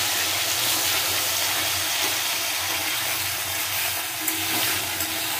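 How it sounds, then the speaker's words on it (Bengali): Potatoes and tomatoes frying in oil in a pan, a dense, even hiss of sizzling that holds steady and close without pause, no voices present. "আলু আর টমেটোগুলো ভেজে নেব।"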